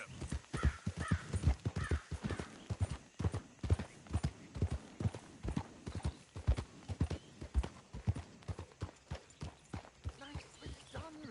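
Hoofbeats of a galloping horse in Red Dead Redemption 2, a steady rapid clip-clop rhythm running throughout, close and prominent, with a voice speaking briefly over it.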